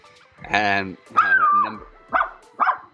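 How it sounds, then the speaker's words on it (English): Dogs woof and yip in a short burst of four or five barks, fairly close and loud, with whiny, drawn-out tones mixed among sharper yaps. "Dogs just woofing in the background."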